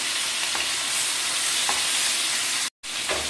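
Fish pieces frying in hot oil and being turned in the pan give a loud, steady sizzle, with a few soft stirring scrapes and one brief break near the end.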